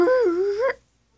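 A dog lets out a single close, high whimper that wavers up and down in pitch for under a second, then falls silent.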